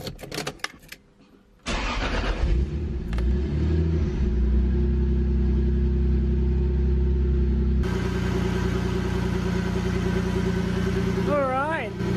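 A Toyota Supra engine cranks briefly after a quiet start, then catches and runs at a steady, loud idle close by, with a rise in pitch toward the end; a voice talks briefly over it.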